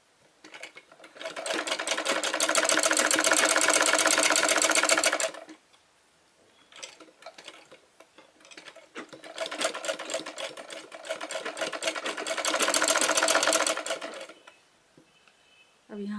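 Sewing machine stitching a cloth roti cover, two long runs of rapid mechanical rattling stitches separated by a pause, close and clear, with a person talking quietly around them.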